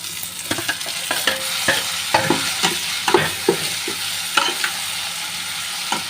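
Tomatoes frying with cooked onions in a pan, a steady close sizzle broken by irregular scraping knocks of a spoon stirring the mixture, with no talking.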